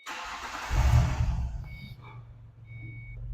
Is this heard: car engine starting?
yes